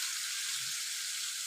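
Chicken pieces frying in hot oil, a steady hiss of broadband sizzle running throughout, close and even with no voices.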